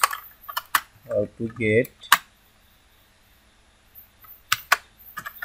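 Bursts of clicky keystrokes on a computer keyboard while text is typed, a few quick separated taps near and clear, with someone briefly speaking between them.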